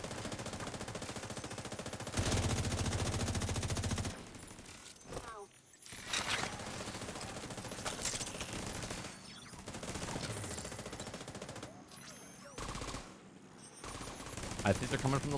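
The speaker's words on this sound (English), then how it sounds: "Those guys were shooting at each other." Gunfire in the video game The Division 2, with sustained bursts of automatic fire and scattered shots, loud and dense, broken by brief pauses, while people talk over it.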